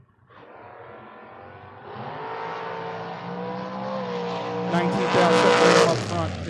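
Drag racing cars, one of them a low-riding 1968 Camaro, launch and accelerate down the strip with a rising engine roar that grows louder and peaks near the end, heard from a distance under an announcer's voice.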